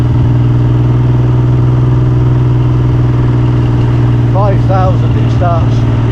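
A Triumph Trident T160 motorcycle engine drones steadily and loudly throughout, a constant low mechanical hum, while a voice speaks briefly over it near the end.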